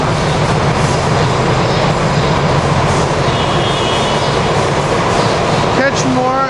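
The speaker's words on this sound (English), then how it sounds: "We got another Septa train coming in" A SEPTA train rolls loud and close through 30th Street Station with steady broadband rumble throughout, a brief rising squeal or horn-like tone appearing near the end.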